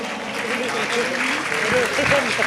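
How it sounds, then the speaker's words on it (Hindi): Audience applause at a Jain felicitation ceremony during a shravak sanskar camp in Itarsi, steady and sustained across the whole moment, with voices mixed in beneath the clapping. "जोरदार तालियां बजाओ"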